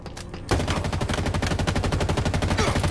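Rapid automatic weapon fire in Halo, an Oddball match, opening with a brief quieter lead-in and then a loud, steady, close burst of shots that keeps hammering without a break.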